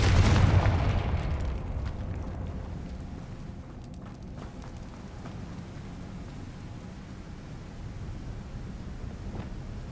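A Confringo blasting spell explodes in the Hogwarts Legacy video game, a loud booming burst at the start that decays into a long rumbling, windy roar.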